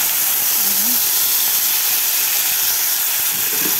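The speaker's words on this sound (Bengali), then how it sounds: "এখন চিংড়ি মাছটা ভাজবো" Prawns sizzle in a hot pan while being fried for a Bengali prawn bhuna, a loud constant hiss of oil filling the whole moment without any talk.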